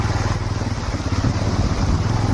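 A motorcycle rides along a rural road between Mahoba and Chhatarpur in India. The engine drones steadily and loudly throughout, with a low, even rumble and no voices.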